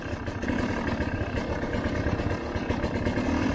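A motorcycle engine runs during a riding lesson, a steady, loud rumbling hum that stays level throughout with light clatter and no speech.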